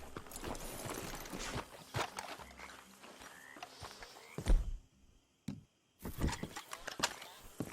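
Horse hooves clip-clop on the ground in Red Dead Redemption 2 as riders stop and dismount, scattered steps mixed with talk, a brief silent gap, then a few more hoof and foot sounds.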